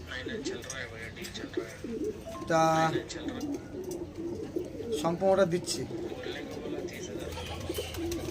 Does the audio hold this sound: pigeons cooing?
yes